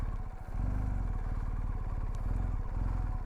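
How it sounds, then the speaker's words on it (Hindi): A BMW R1250GS motorcycle engine on a mountain trail lugs at very low revs, close and loud, its throbbing, uneven pulses sagging toward a stall before being held under clutch control, with no speech. "अभी देखो बाइक ऑलमोस्ट स्टॉल होने आई है"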